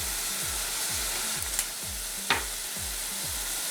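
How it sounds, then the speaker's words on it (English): Seasoned food sizzles steadily in a pan as it is stirred, with a regular repeating scrape of the utensil and a couple of brief clicks, loud and close with no talking. "Mix that up."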